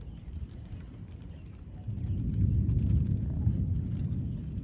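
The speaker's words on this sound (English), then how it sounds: "It's starting to rain." Steady rain from a severe thunderstorm at Sandy Point, Maryland hisses and patters, growing heavier and louder partway through with a low rumbling undertone.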